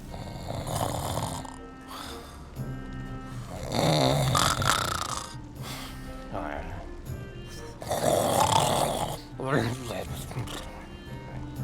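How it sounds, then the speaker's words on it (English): Loud, rhythmic snoring from sleeping cultists in a video game dungeon, deep rumbling inhales recurring about every four seconds, close by with spoken commentary between them. "I'd say Delul, probably, from the snoring"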